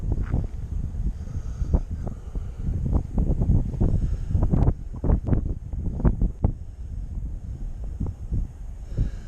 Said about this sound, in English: Gusty winds, I would say.